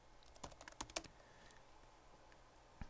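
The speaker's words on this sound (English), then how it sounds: "So I'm going to type in Project Orion Dashboard." Quiet clicks of typing on a computer keyboard, a brief cluster of light keystrokes in the first second followed by near silence and one last tap.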